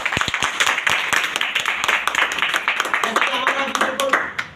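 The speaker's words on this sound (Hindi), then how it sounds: "एक बार जोरदार तालियां उनके लिए।" An audience at an Ayurveda business seminar claps in a crisp, uneven patter of many hands, with a voice speaking over the clapping toward the end.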